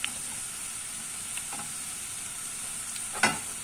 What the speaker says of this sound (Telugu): అల్లం వెల్లుల్లి పేస్ట్ పచ్చి వాసన పోయేంత వరకు ఫ్రై చేసుకుందాం